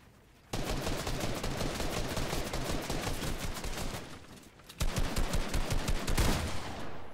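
Dense bursts of rapid gunfire in a video game 1v1 fight, loud and close, one sustained burst then a brief gap and another volley with sharp individual cracks, no talk.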